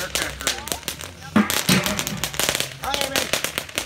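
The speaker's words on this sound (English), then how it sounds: "Then we put the firecracker in." Firecrackers and bottle rockets set off from a tube, giving sharp crackling pops and bursts scattered through the clip, with people talking and noisy activity throughout.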